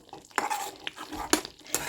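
A spoon scrapes and swirls through a thick, bubbling tamarind curry in a pot, in a few quick strokes with soft sizzling between them.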